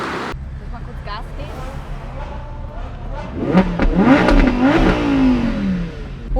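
At a supercar meet, voices talk over a low background rumble until a supercar engine is blipped into a loud, rising rev that sweeps up and falls back, with nearby crowd noise.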